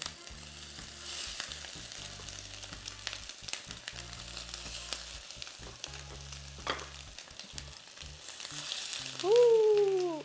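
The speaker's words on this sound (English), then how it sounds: "we're just gonna let it sear until it's nice and golden brown" Crab cakes searing in a hot pan, a soft steady sizzle running throughout with faint crackles, no one talking.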